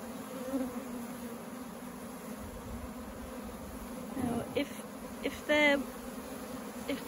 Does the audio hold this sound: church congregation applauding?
no